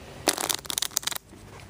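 A quick riffle of playing cards, a dense flurry of crisp flutters lasting about a second, close and fairly loud, then quiet room tone.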